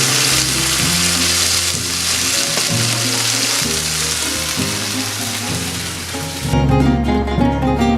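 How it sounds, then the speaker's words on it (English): Red pepper fries in a paella pan with a steady, bright sizzle that carries on throughout, sitting beneath prominent background music. "Make sure the red pepper cooks all the way throughout."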